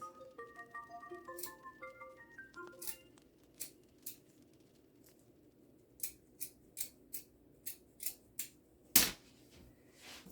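Scissors snip through a plastic yogurt cup during a gnome-body recycling craft, with a quick series of close, crisp cuts over a faint background of soft melodic tones, followed by one louder sharp click near the end.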